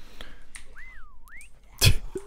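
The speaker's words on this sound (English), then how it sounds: "when you whistle, you really wake them up" A single melodic whistle glides up, dips, then rises again in a Roblox Aftermath zombie game, followed by a loud sharp burst like a sneeze or impact.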